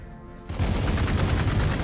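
Gunfire in the Warhammer 40k Gladius strategy game, with Ork units firing: a dense, continuous crackling burst of shots that starts abruptly and stays loud, with no speech over it.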